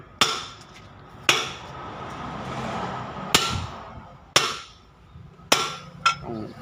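Hammer blows driving front wheel nuts onto a truck, five or six sharp metallic strikes spaced about a second apart, loud and close, with ringing decay and outdoor background noise between hits.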